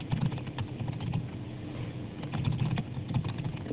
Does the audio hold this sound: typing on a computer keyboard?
yes